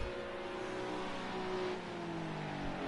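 A BMW GT3 race car on the last lap at Le Mans, its engine droning loud and steady with strong harmonic tones, a continuous close roar without a clear pass-by swell.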